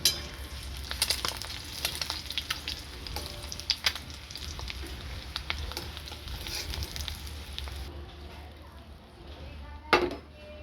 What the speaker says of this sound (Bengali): ডিম ভাজা হয়ে এসছে।